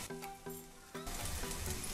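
Spices frying in hot oil in a kadhai for a Maharashtrian drumstick (shevga) curry, with Kashmiri red chilli powder added; a steady close sizzle that swells louder after the first second, with no voices.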